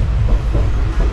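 Steady, close, low rumble of the Tutari Express sleeper train rolling overnight from Konkan to Mumbai, with a faint clickety-clack over the wheels' continuous drone and no talking.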